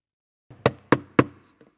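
Three sharp, evenly spaced knocks on a wooden door sound close and loud, followed by a faint fourth tap, in an otherwise quiet room.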